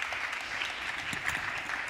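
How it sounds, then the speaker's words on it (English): An audience at a sustainability forum's main hall applauds panelists walking on stage, a steady even wash of clapping at moderate distance and fairly soft. "Welcome on stage, ladies, and please, round of applause."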